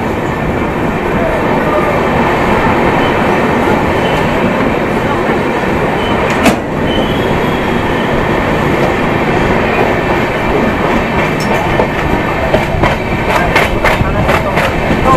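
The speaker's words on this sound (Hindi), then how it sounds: "अपनी ट्रेन रवाना हो चुकी है बख्तियारपुर जंक्शन से" An Indian express train rolls along the rails after leaving Bakhtiyarpur Junction, heard from inside a 3AC coach as a loud, steady rumble with rhythmic clicks and a few sharp metallic knocks toward the end.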